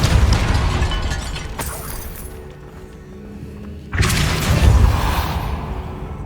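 A Depulso force spell cast in Hogwarts Legacy, a loud whooshing blast that fades, then a second heavy burst with a crumbling, shattering rush, all close and with no talk.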